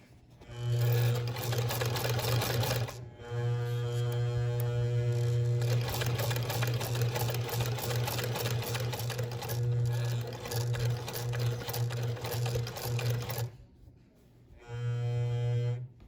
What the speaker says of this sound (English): You want the sewing machine to do that work for you.